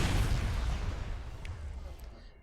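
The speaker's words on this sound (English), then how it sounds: "That sounded like a pretty loud explosion right there." A loud explosion from the Mass Effect PC game erupts at the start as a deep rumbling boom, then decays slowly over about two seconds with fainter crackles fading out.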